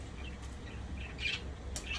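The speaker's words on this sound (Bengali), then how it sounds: "এটা হচ্ছে ঘুঘু আমাদের দেশে ঘুঘু ইংরেজিতে এদেরকে বলা হয় ডাব" A dove calls outdoors in Sydney, Australia, with a few soft, brief notes over low background rumble and no voices.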